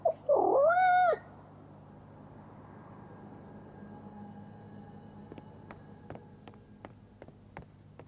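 A cat meows in the video game Life Is Strange Double Exposure, one loud drawn-out wavering meow at the start, followed by a quiet ambient hum with faint rhythmic clicking ticks toward the end.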